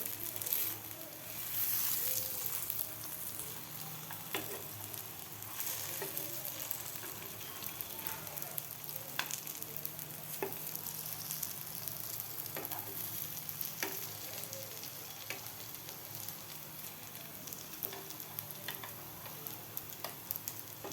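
Beetroot and potato cutlets fry in a pan over medium heat with a soft, steady sizzle and crackle, faint and continuous, with occasional small pops and ticks.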